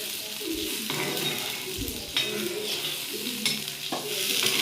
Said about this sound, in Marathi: 1 ग्लास मी पाणी टाकलेलं आहे